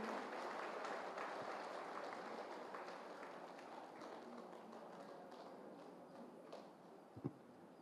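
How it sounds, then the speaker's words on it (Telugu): An audience at a pyramid spiritual anniversary gathering in Visakhapatnam claps to welcome a guest, a faint, distant, continuous patter of many hands with one sharper knock near the end. "సార్ కూడా గట్టిగా క్లాప్స్, బిగ్ క్లాప్స్ వెల్కమ్ చెప్తాం సార్."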